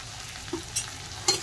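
Potatoes with salt and turmeric frying in a pan for a Bengali dimi shak dish, a steady close sizzle broken by three short scraping stirs of the spatula.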